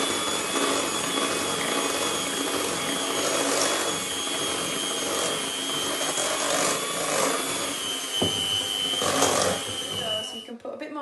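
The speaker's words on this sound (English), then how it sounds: "Then you need to whisk it on a high speed until it's all combined." Electric whisk running at high speed while mixing a dough batter in a bowl in a home kitchen, a steady continuous motor whine throughout with brief shifts near the end.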